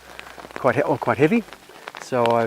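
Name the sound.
heavy rain falling on hiker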